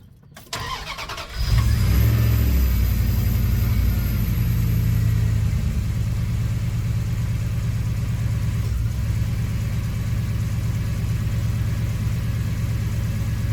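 A car engine cranks briefly, catches with a surge, then settles into a steady, close, loud idle that runs on without speech.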